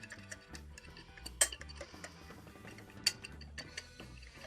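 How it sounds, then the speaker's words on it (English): Sweetener, cinnamon and salt being whisked in a bowl: quiet, rapid rhythmic ticking and tapping of a whisk against the bowl, close and soft, with a couple of sharper clinks and no talk. "Now we're just going to whisk this until it's well combined."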